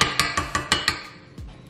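A whisk clinks against a mixing bowl while chocolate chip cookie dough is mixed, giving about six sharp, close metallic taps in a steady rhythm, followed by a softer scrape.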